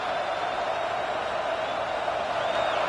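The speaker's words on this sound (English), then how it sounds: "the crowd coming to life here, trying to help this defense down in the red zone" Stadium crowd noise from a college football video game, Texas versus Alabama, a steady broad roar that swells as fans get loud to back the defense in the red zone, continuous and distant with no distinct voices.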